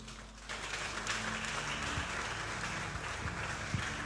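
Church congregation at a Sunday celebration service applauding, a steady wash of clapping that picks up after a short quiet start and holds over a low sustained hum, no speech.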